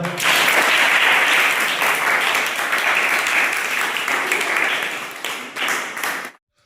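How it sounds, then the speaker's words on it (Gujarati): A group of people, likely students at a school robotics club, applauds loudly and steadily for several seconds before the clapping thins out and stops abruptly. "તાળી પાડી દો."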